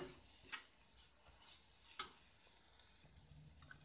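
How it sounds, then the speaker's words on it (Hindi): A spoon stirs moong dal filling in a pan, quiet scraping with a couple of sharper metallic clinks against the pan, faint and intermittent. "चम्मच से हिलाते रहिए।"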